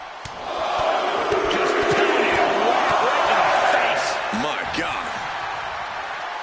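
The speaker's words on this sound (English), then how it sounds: "This crowd is thunderous right now." A crowd at a wrestling video game match roars loudly and steadily, swelling after a start, with sharp slams and thuds from the ring and a commentator talking over the noise.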